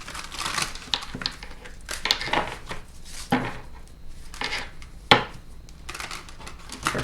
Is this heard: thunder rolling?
no